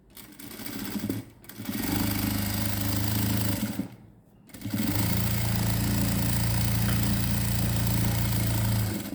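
Two runs of close, loud, steady whirring from a sewing machine stitching piping along a chudidar sleeve edge, separated by brief pauses.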